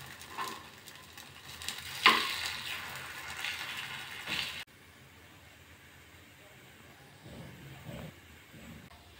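Kara paniyaram frying gently in a pan over a low flame, a soft steady sizzle with occasional metallic scrapes and clinks, louder in the first half and then fading to a faint, quiet crackle.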